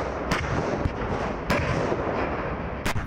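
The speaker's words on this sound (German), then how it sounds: "Wir testen und fordern das System und es funktioniert. Die Panzerhaubitze 2000." A Panzerhaubitze 2000 self-propelled howitzer fires during a German and NATO artillery exercise: several sharp, sudden cracks break through a steady, loud roar of outdoor noise, spaced irregularly over a few seconds.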